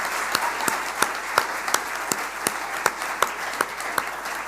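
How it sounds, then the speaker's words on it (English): Graduation ceremony audience applauding steadily, a dense wash of many hands clapping with a few louder individual claps standing out at a fairly regular rhythm, with no talking. "can we give her a round of applause?"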